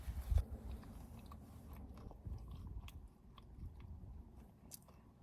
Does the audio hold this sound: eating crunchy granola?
yes